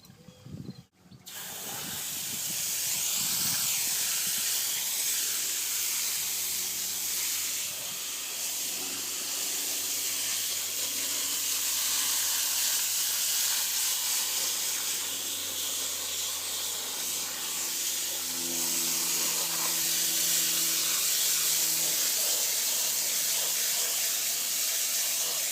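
A hand sprayer misting water over a freshly root-pruned bonsai, a steady close hiss of fine spray running almost continuously for about twenty seconds with faint low hum beneath.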